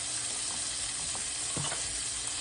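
Tomatoes and garlic paste sizzle in a hot pan while being stirred, a steady bright frying hiss with soft scraping and clinking of the utensil against the pan.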